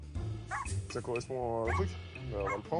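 A small bulldog yips, barks and whimpers in short bursts close by during a gendarmerie check, its cries mixed in with French conversation.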